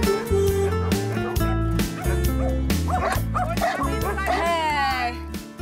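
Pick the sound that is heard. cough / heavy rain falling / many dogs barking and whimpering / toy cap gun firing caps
many dogs barking and whimpering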